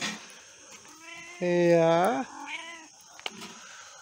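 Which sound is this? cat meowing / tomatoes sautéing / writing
cat meowing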